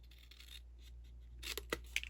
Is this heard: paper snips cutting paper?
yes